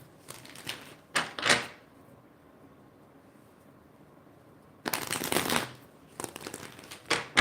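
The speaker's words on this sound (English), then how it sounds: "While I'm shuffling, and I feel this is a pretty long shuffle for Norvell Cody" Tarot cards shuffled in bursts of soft riffling and crisp flicking, quiet and close, separated by a long stretch of near silence.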